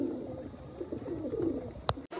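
Low, soft pigeon cooing murmurs continuously nearby, with a brief flutter or rustle near the end.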